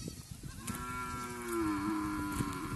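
Cattle in a farm cow shed on agricultural land in Namakkal district, one close, drawn-out low moo lasting a couple of seconds over faint background noise, with no talk.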